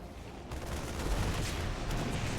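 Siege tanks firing in a StarCraft 2 match, a dense rumbling barrage of heavy explosive booms that holds loud and steady with no gaps.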